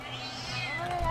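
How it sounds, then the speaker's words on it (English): A house cat meows close to the microphone, a drawn-out rising and falling call lasting about a second, with a faint voice in the background. "I must appease this feline creature."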